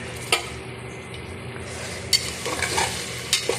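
Chopped onion with cardamom, cinnamon and bay leaf frying in a pan makes a continuous sizzle, with a few sharp clinks and scrapes as the spoon stirs against the pan. No one speaks.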